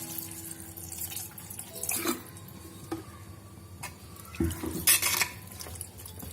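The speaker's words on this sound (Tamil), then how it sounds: "இப்போ இந்த காய் வேகிற அளவுக்கு தேவையான அளவு தண்ணி ஊற்றிடலாம்." Water poured from a vessel into a pot of radish sambar (mullangi sambar) in a kitchen, a soft running splash with a few clinks of metal cookware, close by and with no talking.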